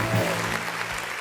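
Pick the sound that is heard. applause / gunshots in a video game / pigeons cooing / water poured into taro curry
applause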